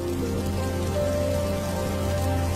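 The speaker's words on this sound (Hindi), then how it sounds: "ये बारिश तो बढ़ती ही जा रही है।" Steady, dense rain pours down without a break, a constant close hiss of drops hitting surfaces.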